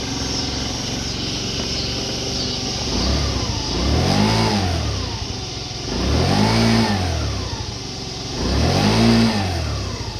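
An old scooter engine idles steadily, then revs up in three rising-and-falling bursts, close and fairly loud, with no voices.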